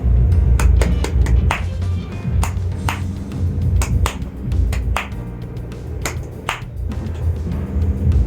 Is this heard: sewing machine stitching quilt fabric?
no